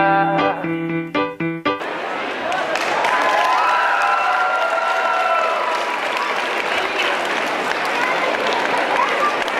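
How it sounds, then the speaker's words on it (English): An audience at the 2nd Filipino Festival in 2018 gives a warm round of applause, loud, steady clapping and some cheering that swells in after a short musical phrase and carries on without a break. "So give another round of applause."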